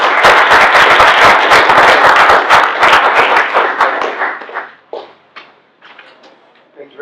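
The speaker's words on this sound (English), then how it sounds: "Ladies and gentlemen, warm round of applause for Jeff Prang." A breakfast gathering audience gives a warm round of applause for Assessor Jeff Prang, a dense burst of clapping that thins out into scattered claps toward the end.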